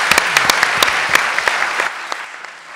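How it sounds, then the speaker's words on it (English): A room full of people applauds panelists at a St. John's campus event, steady clapping with sharp individual claps standing out, fading toward the end. "Give a round of applause for our panelists."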